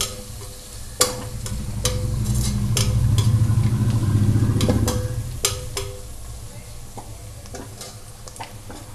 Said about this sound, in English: fry it for a minute until the aroma of the garlic cloves comes out